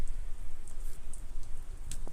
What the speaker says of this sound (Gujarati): આ ટીપું પડી ગયો કેમેરા ઉપર.